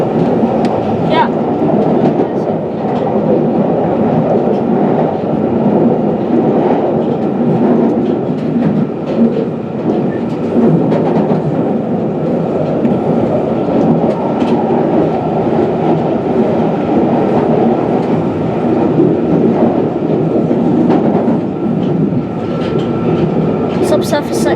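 A London Underground Northern line train of 1995 stock runs between South Wimbledon and Morden, heard from inside the driver's cab. A steady, loud rumble of motor and wheels continues throughout with faint rhythmic clicks on the rails.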